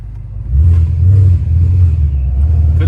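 Supercharged Ford Mustang GT engine and exhaust, a loud, close, deep idle rumble that swells into a brief blip and stays heavy throughout.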